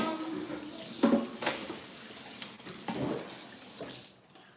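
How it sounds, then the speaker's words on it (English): Water from a tap rinses a grater in a kitchen sink, splashing and gurgling in irregular bursts close by, then tapering off at the end. "let's rinse that out"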